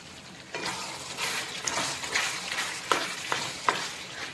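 Chicken sukka with sukka masala powder is stirred in a frying pan: soft sizzling under repeated scraping strokes of a spoon, with a few sharper metallic clicks near the end, close up and without talk.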